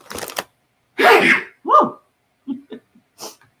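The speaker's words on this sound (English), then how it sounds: "I've got to sneeze." A single sharp human sneeze indoors during a live crochet stream, a loud burst preceded by a quick intake of breath, followed by a softer throaty sound and a few faint short noises.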